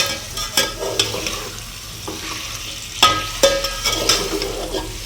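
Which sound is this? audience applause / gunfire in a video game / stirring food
stirring food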